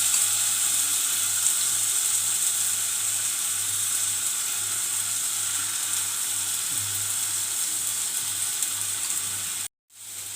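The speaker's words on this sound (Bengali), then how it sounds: "এবার আমি একে একে চিকেনগুলোকে এর উপর ছাড়তে ছাড়বো" Chicken pieces sizzle and fry steadily in a lightly brushed pan for a diet chicken tikka, a constant close hiss with no talk, cut briefly near the end.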